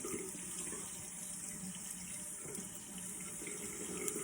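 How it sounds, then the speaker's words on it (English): Running tap water splashing into a bathroom sink as a person ducks down to rinse their face during a morning skincare routine, a steady close, continuous rush with small splashy variations throughout. "I'm going to just duck down and splash a little bit more water on my face"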